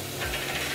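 A pepper mill grinds pepper in a short, close, continuous ratcheting crunch, seasoning meat being prepared for American-style grilling.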